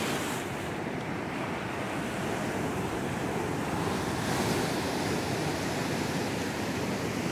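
Ocean waves surge steadily at Rosarito Beach, Mexico, during a king tide, a dense continuous roar of surf with wind buffeting the microphone throughout, no voices.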